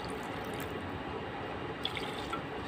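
Water pours steadily into a pot of chicken soup during cooking, a continuous splashing trickle with a few faint clinks, heard close and alone.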